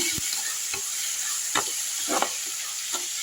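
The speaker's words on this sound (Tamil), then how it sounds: "வெங்காயம் ஓரளவுக்கு வதங்கிடுச்சு பாருங்க" Onions sautéing in a pan give off a steady, close sizzling hiss, broken by a few soft scrapes and knocks from stirring.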